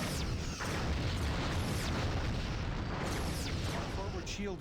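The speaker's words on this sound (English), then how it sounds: "1 torpedo hit." A torpedo strikes a ship in a Star Trek space combat game, a Klingon Bird of Prey against a Sovereign-class refit, giving a loud, sustained rumbling boom with a dense noisy wash and engine drone, while someone talks over it.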